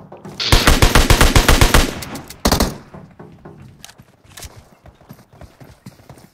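Rapid bursts of automatic gunfire from a PUBG Mobile gunfight, loud and dense for about two seconds, then a single sharp blast followed by scattered fainter shots and clicks.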